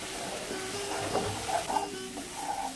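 Water splashed into spice paste frying in oil for a Bengali potato and pointed gourd curry, giving a steady close sizzle with brief louder bursts and stirring noises, no talking.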